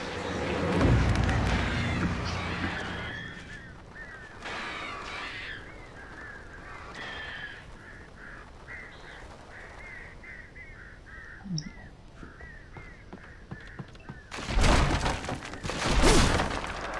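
Crows caw repeatedly in the game Alan Wake, a run of harsh calls in the middle stretch against a dark ambient background, with louder bursts of game noise at the start and end.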